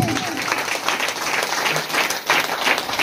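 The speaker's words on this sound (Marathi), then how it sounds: "जोरदार टाळ्या वाजवायचा आहे" A church congregation applauds loudly, a dense sustained wash of clapping with a brief dip near the end and faint voices mixed in.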